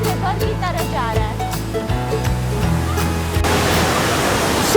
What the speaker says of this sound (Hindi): So this is our Elephant Falls